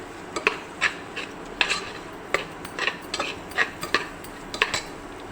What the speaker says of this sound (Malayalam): ഗരം മസാല ഒരു സ്പൂണിന് വേണ്ടി ഇട്ട് കൊടുക്കാം എന്നിട്ട് നമുക്കിതെല്ലാം നല്ലതുപോലെ പച്ചമണം മാറുന്നത് വരെ ഒന്ന് ഇളക്കി കൊടുക്കാം